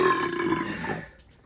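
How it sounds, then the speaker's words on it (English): A loud, rough burp from someone who has just eaten quarter-pound Costco chili dogs in a burp contest. It rumbles for about a second and then trails off into quiet. "This is a burp challenge all of a sudden."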